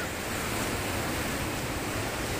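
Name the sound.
sea waves on Tahara Long Beach, Japan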